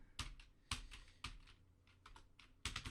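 Several quiet, close keystrokes on a computer keyboard come in small irregular bursts, each click sharp and brief, with soft gaps between them and no talking.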